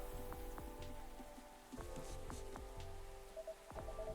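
Rain patters softly outside in the Coffee Talk 2 game, a faint, steady drizzle behind a calm scene, with scattered drips and light knocks plus a gentle background tone.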